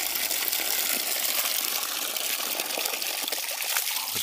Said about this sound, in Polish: to jest źródło wody mineralnej